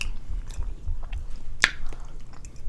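Close chewing and wet smacking while eating breakfast food at a mukbang: soft, moist mouth sounds with one sharp, crisp bite-like snap partway through, otherwise quiet.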